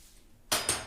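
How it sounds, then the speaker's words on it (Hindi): A child playing with kitchen pots and utensils at home makes two sharp metallic clanks in quick succession after a quiet moment, close and bright like steel pans knocked together. "बर्तन खाने होते हैं, नोनू को खाना नहीं खाना होता है"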